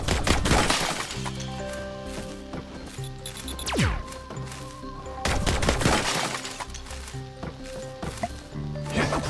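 Gunshots in the game My Time at Sandrock, sharp cracking blasts and impacts against a busy backdrop of game music and effects, with several bursts spread across the stretch.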